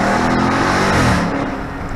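A Dodge Charger Daytona 392 V8 revs hard under full throttle on the street, a loud, close, sustained engine roar that holds steady before easing off slightly at the end.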